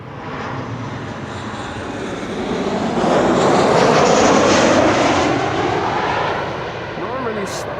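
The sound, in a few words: KLM airliner arriving at Amsterdam Schiphol Airport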